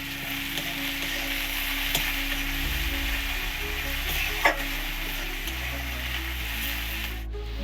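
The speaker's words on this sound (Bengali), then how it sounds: "পেঁয়াজগুলো একটু ভেজে নেব" Onions sizzle and fry steadily in hot fish oil, a continuous loud crackling hiss with occasional stirring scrapes and small pops, close up with no talking.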